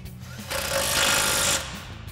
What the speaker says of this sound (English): we'll grab our 21 mil socket on our impact and tighten this back down.